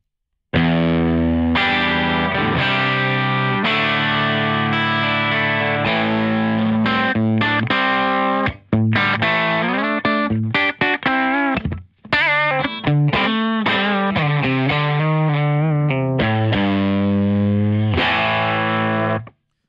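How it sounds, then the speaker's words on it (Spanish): Low-gain distortion from the first preset of a Pigtronix Aria pedal, played on a Fender Stratocaster through a Hot Rod DeVille amp: loud, continuous guitar chords and single-note runs with a crunchy, driven edge, and no voices. "escuchamos una distorsión del low gain"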